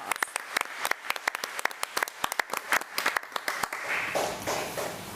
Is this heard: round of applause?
yes